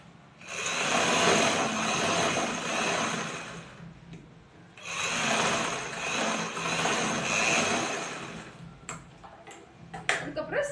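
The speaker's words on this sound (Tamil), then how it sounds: "அந்த வளைவுல மட்டும் தைக்கிறோம்." A sewing machine stitches the curved bottom of a pocket on a churidar in two long steady bursts of fast whirring separated by a short pause, ending with a few clicks and taps.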